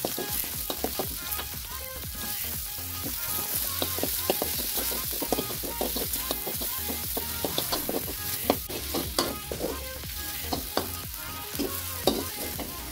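Sausage and fish balls stir-fried with red chili in a hot pan, with steady sizzling and frying hiss punctuated by repeated scraping and clacking of a spatula stirring the food, close and continuous throughout.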